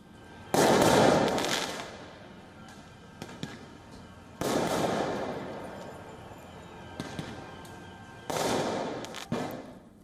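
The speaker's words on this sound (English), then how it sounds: "demonstrators fired petrol bombs and firecrackers at the riot police" Firecrackers burst during street clashes between demonstrators and riot police, loud sharp bangs in three heavy volleys with crackling tails and scattered smaller pops between them, no voices.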